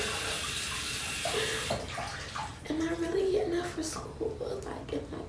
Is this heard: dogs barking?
no